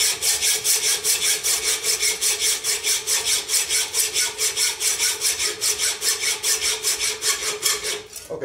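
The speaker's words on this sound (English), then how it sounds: "We know we're going to get through this with the hacksaw." A hacksaw rasps back and forth through metal in a fast, even rhythm of about four strokes a second, close and loud with no voices, until it stops at the end.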